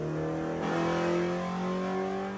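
A Honda B16A engine revs on a dyno, a loud close steady drone whose pitch rises and holds, with no talking.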